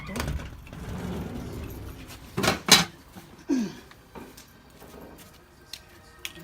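A cooking pot set down over a fire while preparing Tetela-style pondu with palm oil: a few sharp metallic clanks close by in quick succession, followed by softer knocks against a quiet background.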